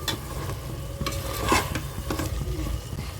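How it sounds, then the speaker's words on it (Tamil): A spoon scrapes and stirs masala through goat intestines in a pan, a thick mixture with soft sizzling underneath and a few sharper clinks. "நல்லா மிக்ஸ் பண்ணி விடுங்க."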